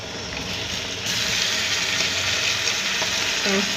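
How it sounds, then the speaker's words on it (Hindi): Red chili and tomato frying in a karahi for chicken karahi, a dense, loud sizzle that jumps up sharply after a second as ingredients hit the oil, then holds steady with a faint clink near the end, no talk. "लाल मिर्च डाल लेते हैं, इसको भी भून लेते हैं।"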